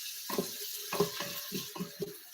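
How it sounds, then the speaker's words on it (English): Onions frying in a pan, heard as a soft, uneven run of crackles and light clatter from stirring, quiet and close with no talking. "we are starting with frying the onions"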